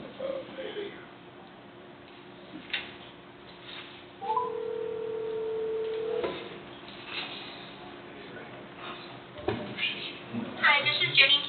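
A telephone is dialed for a speakerphone call in a meeting room, with a few short keypad tones and a steady held tone amid quiet room noise and brief talk from people nearby.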